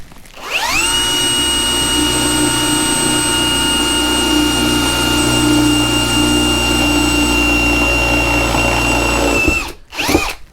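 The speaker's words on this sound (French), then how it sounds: "On va essayer aussi de percer la ferraille." A Bosch GSR 18V-150C cordless drill spins up and bores through plain sheet steel, giving a loud, steady high-pitched whine that runs about nine seconds before cutting off with a brief clatter.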